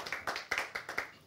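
Rhythmic applause at a church Mass: about five steady claps in just over a second, close and fairly loud, with no voices over them.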